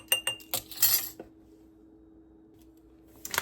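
A metal quarter-teaspoon measuring spoon clinks and taps against a container while spices are measured for homemade taco seasoning, a quick cluster of close, light metallic chinks followed by a quiet pause and a few more clicks.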